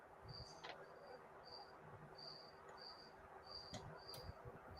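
A single cricket chirps in a steady series of short, evenly spaced pulses, faint and alone over a quiet background hiss, with a few soft thumps.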